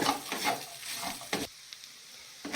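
A spatula scrapes and stirs a fried vegetable mixture for vegetable chops in a pan, with a steady sizzle and a few sharp scraping strokes, then a quieter pause.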